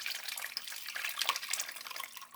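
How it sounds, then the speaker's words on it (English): Pot roast cooking liquid from an Instant Pot, full of onions, celery and bay leaves, is poured through a strainer, giving a soft trickling and splashing that rises and falls in small surges, fairly quiet and close. "put the rest of the liquid through the strainer"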